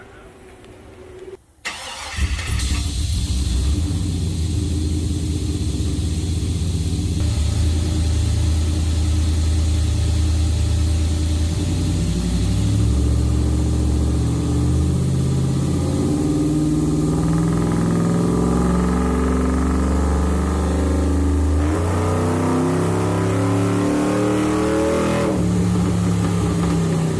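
A Chevrolet Silverado truck engine starts, then revs and climbs through rising runs on a dyno, a loud, close, continuous roar that holds steady before ramping up again.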